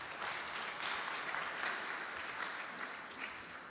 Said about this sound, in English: please give Guruji's family a big round of applause as well